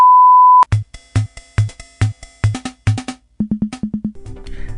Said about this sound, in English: you're listening to the sound of the beep